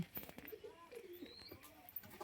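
Madras high-flying pigeons coo in a low, rolling series of soft calls close by, with faint chirps and a little background noise between them.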